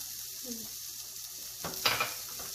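Spring onions hit a hot pan of tofu bhurji and fry with a low, steady sizzle, with a brief burst of stirring and clatter near the end.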